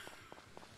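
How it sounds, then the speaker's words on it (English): Footsteps in the farming game Story of Seasons: Friends of Mineral Town, a soft, steady walking rhythm of four light steps repeating over quiet background music, with no talking. "you don't have to hear the footstep noise over and over"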